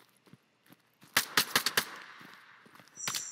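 Gunfire in the military shooter video game Operation: Harsh Doorstop: a quick burst of five or six loud cracks in rapid succession, followed by another shot, over quiet background.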